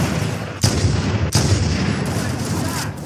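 Needler rounds detonating in Halo CE, two sharp loud bursts about half a second apart, then a softer third, each over a dense, steady roar of gameplay noise.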